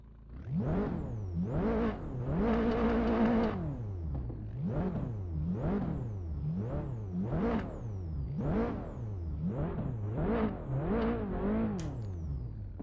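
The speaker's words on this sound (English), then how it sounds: "the back fire sounds are atrocious" A Toyota GR Yaris engine in the Assetto Corsa racing video game revs up and down in a steady repeating rhythm of rising and falling whines, with a sharp backfire crack near the end.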